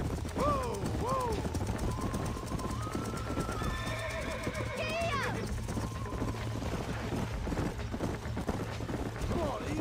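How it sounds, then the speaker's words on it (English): In Red Dead Redemption 2, horses whinny loudly over a steady rumble of hoofbeats, with a long rising and falling neigh in the middle. "These are fine horses."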